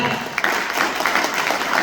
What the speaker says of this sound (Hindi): एक बार मेरे upline great Mahaguru mister Mahendra ji sir के लिए जोरदार तालियां हो जाए।